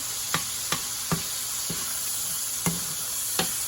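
Spaghetti squash sizzling in an oiled pan, a steady close hiss broken by about six sharp spatula taps spaced roughly half a second apart, no talk.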